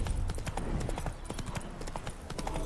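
Horse hooves clip-clop in The Witcher 3, a brisk, steady rhythm of sharp close hoofbeats that carries on throughout with no talk over it.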